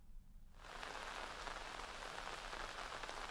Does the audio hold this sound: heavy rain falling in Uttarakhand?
yes